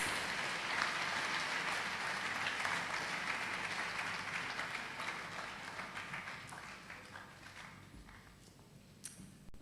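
An audience at a university congregation ceremony applauds as Professor Kwesi Yankah is invited to speak, a sustained wash of clapping that starts full and gradually thins and fades toward the end.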